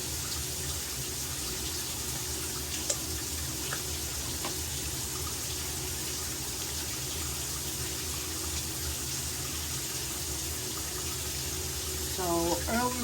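A tap runs steadily while hands are wet under the stream, a continuous close hiss of flowing water with a brief louder splash near the end, and a voice briefly audible over it.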